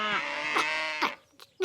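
Cartoon cows let out two or three drawn-out moos, the first long and tonal, followed by shorter lowing calls with brief pauses between them.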